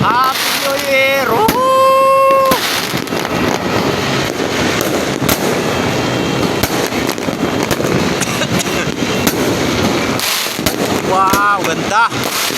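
New Year fireworks heard from a house rooftop crackle and pop continuously, with whistling rockets rising at the start and end and voices in the background.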